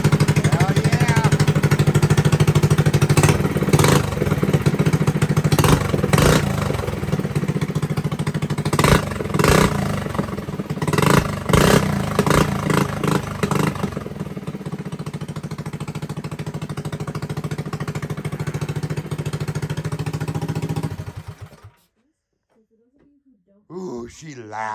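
Rebuilt mini bike engine running loud and steady for about twenty seconds, with sharp revving bursts and rattling clatter over the idle, then cutting off abruptly near the end; people talk over it.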